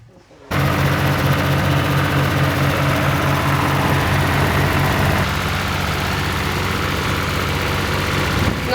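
A borrowed farm tractor's engine starts up suddenly and runs loud and steady at close range, a heavy, even diesel rumble with a constant vibrating drone that continues to the end.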